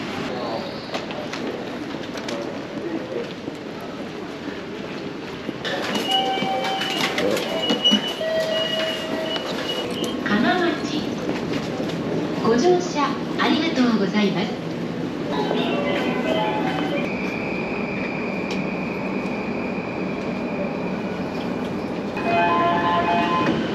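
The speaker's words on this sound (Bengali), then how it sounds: "ট্রেন থেকে নামলাম শিরাগাঁও স্টেশনে।" A train pulls into Shinagawa station in Tokyo amid station bustle, with steady rumble, tonal chimes and electronic announcement tones rising over the noise, and voices talking faintly in the background.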